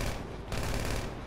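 A dense burst of video game gunfire in GTA V, rapid overlapping shots packed into little more than a second. The volume is fairly soft and there is no talk.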